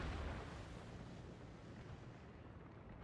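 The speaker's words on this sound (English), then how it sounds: "Surprise German torpedoes." A German torpedo strikes a warship in World of Warships, a deep rumbling blast that booms loudest at first and then rolls off into a sustained low roar.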